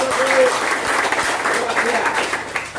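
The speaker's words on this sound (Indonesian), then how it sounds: "Oh, tepuk tangan." Audience applause at a school Independence Day gathering, a steady dense clapping that stays loud throughout, with voices talking over it.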